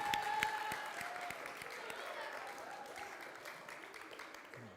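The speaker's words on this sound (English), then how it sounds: "Round of applause for Sean and Lindsay." Applause from a congregation at a church confirmation service for a couple being introduced, moderate clapping from a room of people, steady throughout with a faint voice briefly audible early on.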